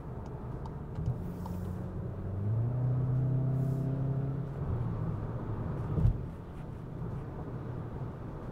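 A 2024 Volkswagen Jetta GLI cruises at highway speed, with a low engine hum and road rumble rising briefly as it accelerates and a soft thump near the end, all heard from inside the cabin.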